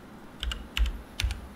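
Three quick pairs of keystrokes on a computer keyboard, close and crisp, with short pauses between the pairs.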